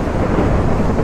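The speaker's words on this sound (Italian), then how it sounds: "Perché i fulmini aumentano a dismisura?" Thunder in Minecraft rolls on as a loud, dense, continuous rumble filling the whole short stretch, with no voices over it.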